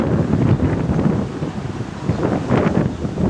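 Strong wind buffets the microphone on an open farm, a loud continuous roar with gusty swells and low rumbling, no voices.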